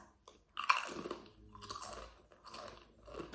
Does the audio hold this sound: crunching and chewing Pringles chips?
yes